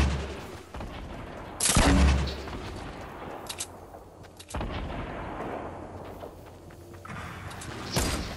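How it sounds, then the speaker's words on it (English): Bursts of gunfire and heavy booming shots in a video game firefight, with a loud blast near two seconds, another around four and a half, and a sharp crack at the end over a constant rumbling battle backdrop. "We're getting shot at"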